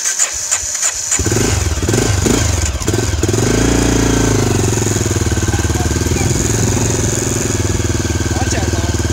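Honda XR650L dual-sport motorcycle starting cold with the choke on: a few sharp cranking bursts, then the single-cylinder engine catches and settles into a loud, steady, thumping idle close by.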